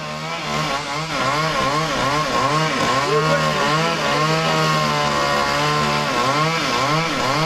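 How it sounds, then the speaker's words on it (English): Chainsaws cut through tree branches hanging over a road, a loud, close, buzzing engine whine that revs up and down continuously throughout. "Chainsaw machines busy cutting through branches of trees hanging out into the road."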